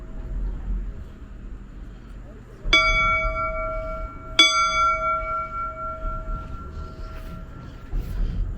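A bell at the 2022 Phillipsburg Railroad Festival rings twice with clear metallic strikes whose tones hang and fade over several seconds, heard above steady outdoor background noise.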